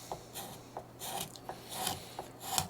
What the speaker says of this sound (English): just take my scraper and start working from the middle